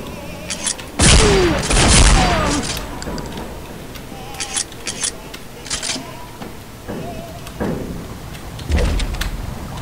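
Bursts of automatic gunfire in Counter-Strike: Condition Zero Deleted Scenes, with loud broadband volleys near 1 and 2 seconds and shorter shots scattered through the rest, alongside other game sounds.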